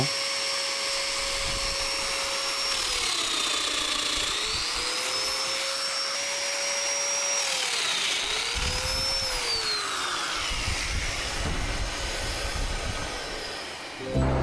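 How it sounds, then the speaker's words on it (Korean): Festool Domino joiner running steadily on hardwood chair parts during furniture making, a loud continuous motor whine that shifts in pitch as it plunges and cuts, alone without talk. "지금 계속 제가 사용하고 있는 기계가 도미노라는 기계예요"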